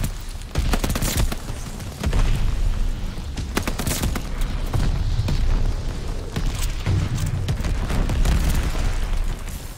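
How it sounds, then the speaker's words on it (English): Mortar blasts and rattling gunfire from a Call of Duty: Vanguard match thud and crackle in a dense, loud barrage with repeated booming impacts, no pauses throughout. "They got mortars on that bitch now."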